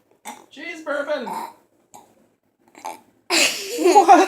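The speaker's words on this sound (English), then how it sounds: "She's burping." Baby burping in a kitchen, a few short throaty gurgling burps and babbling noises, close and loud, ending in a longer noisy outburst, with an adult talking nearby.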